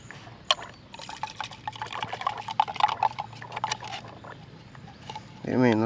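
Petrol pours and trickles out of a motorcycle fuel tap as it is drained, a steady splashing stream with a louder gush near the end.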